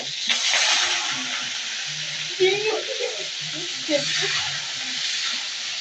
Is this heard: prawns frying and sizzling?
yes